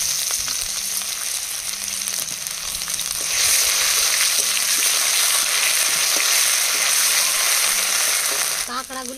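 Dried red chillies, then ginger and garlic paste, frying in hot oil in a pan, a loud steady sizzle that grows fuller partway through as more goes in, with a brief clatter of stirring near the end.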